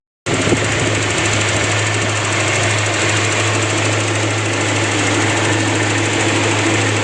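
A Toyota Kijang EFI 1.8 engine idles steadily after a spark plug and plug wire change, a loud, close, even mechanical hum with a fast regular ticking that starts abruptly and holds without wavering.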